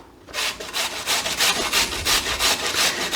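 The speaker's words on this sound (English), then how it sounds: "So you want to grate a couple carrots." Carrots are rubbed against a grater in quick, regular rasping strokes, about four per second, close and loud with no talking.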